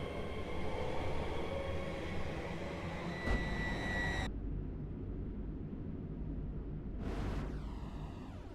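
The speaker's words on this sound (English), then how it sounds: "Here is the train I was obsessed with in this update, and it is the Class 230." A Class 230 train in the British Railway game runs with a steady loud rumble throughout, a sharp knock partway, and a rising whine near the end.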